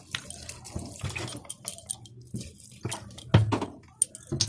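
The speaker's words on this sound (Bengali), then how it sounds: "এবার এটাকে আমি কিছুটা জল দিয়ে সিদ্ধ করে নেব।" Water is poured into a pot of mixed lentils and bottle gourd before boiling. It makes close, uneven splashes and trickles with a few louder splashy bursts and no voices.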